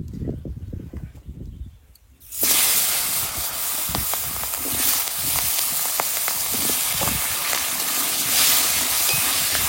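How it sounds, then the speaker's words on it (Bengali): Potatoes frying in oil already used for fish, in a village outdoor setting, start with a sudden loud burst of hissing sizzle after a quieter stretch of faint sounds, then keep a strong, steady crackling fry close by. "মাছ ভাজা তেলে আলুগুলো ভেজে নেবো।"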